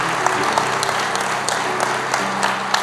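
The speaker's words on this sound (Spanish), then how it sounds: "dale un fuerte aplauso al Rey de Reyes" A church congregation claps during a sermon, with brisk, lively applause lasting a few seconds and sharp individual claps standing out from the crowd.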